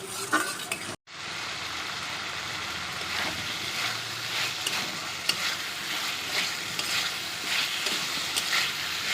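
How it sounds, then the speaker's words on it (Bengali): A tomato and spice masala is stir-fried in oil until the oil separates. After a momentary cutout, a continuous close sizzle runs throughout, with occasional light clinks and scrapes from stirring and no talking. "মশলাটা ভালো করে কষে নিয়েছি মশলা আর তেলটাও সেপারেট হয়ে গেছে"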